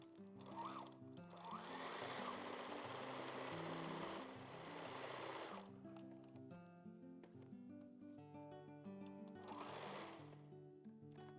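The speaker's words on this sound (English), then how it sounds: "you should stretch the fabric somewhat while sewing to ensure it lies nice and flat" A sewing machine stitches elastic-thread smock seams in stretched fabric, running in two quiet sustained bursts with a pause between them, over soft background music and no speech.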